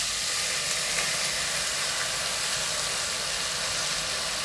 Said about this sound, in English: We're gonna fry the rice until it's really nice and each little grain is separate